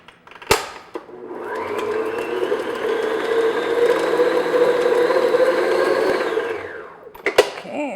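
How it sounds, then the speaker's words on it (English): Electric mixer beating unsalted butter until creamy for a coconut cake, a steady whirring motor drone running about six seconds between brief clatters at the start and end, close and loud with no talking. "I'm just going to beat this just for like a minute, just until it gets nice and creamy and smooth"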